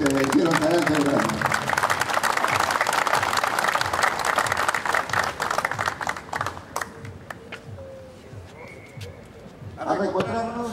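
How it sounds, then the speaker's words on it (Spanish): Applause from a gathering at an anniversary celebration in Huacho, dense clapping that thins out and fades midway, then a brief renewed burst at the end. "Un aplauso para ellos que me hicieron tan celebrado."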